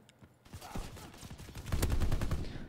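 Gunfire in the video game Call of Duty: WWII: a fast, steady stream of automatic shots rattles continuously and grows louder and denser toward the end, with no talking.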